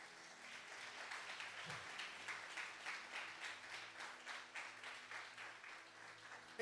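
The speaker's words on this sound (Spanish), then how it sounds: "Dele un aplauso al Señor." A church congregation applauding during a sermon: a soft, distant round of clapping that pulses in gentle waves over several seconds, quiet overall with a faint hum beneath.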